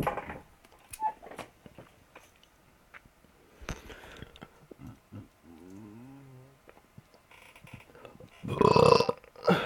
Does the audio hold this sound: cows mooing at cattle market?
no